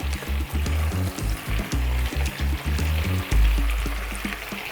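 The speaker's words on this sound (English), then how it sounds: "Bring the glaze to the simmer and then add your pork chops." Pork chops go into a simmering Marmite and manuka honey glaze and set off loud, close sizzling and bubbling over a steady low hum, with no talk.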